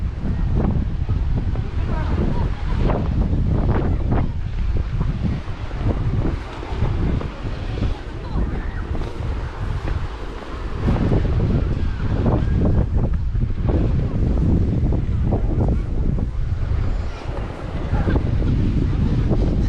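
Strong coastal wind at Durdle Door buffets the microphone in continuous loud gusts, with a rumbling roar and water sounds underneath.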